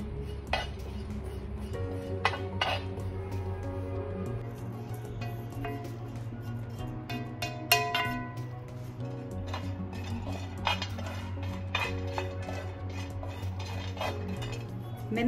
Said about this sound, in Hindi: मैंने गैस बंद की हुई है और सिर्फ गर्म तवे पे ही मैंने इनको हल्का सा सेकने के लिए डाला हुआ है